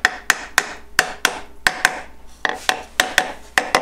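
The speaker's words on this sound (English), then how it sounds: "And tap it with your hammer." Sharp, rapid hammer taps seating a wooden dovetail joint, about a dozen evenly spaced blows close up, with a brief pause partway through.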